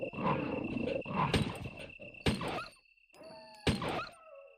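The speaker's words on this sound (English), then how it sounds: "you hear it make that little wince noise" In the Resident Evil video game, a dog is struck with heavy thwacks, then gives short yelps and whimpers amid game sound effects, with sharp impacts separated by brief pauses.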